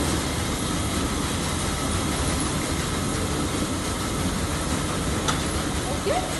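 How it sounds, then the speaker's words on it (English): A tea factory rolling machine runs with a steady, loud mechanical rumble and rattling drone and a few faint clanks. A person talks briefly nearby. "Okay. So I will turn on the machine."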